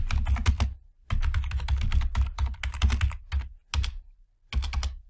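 Bursts of rapid typing on a computer keyboard, close and crisp, with clustered keystrokes separated by short pauses and no talking.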